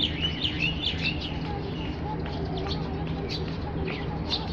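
A busy chorus of many small birds chirps and tweets continuously in the morning while being fed, with overlapping calls over a steady low hum of background noise.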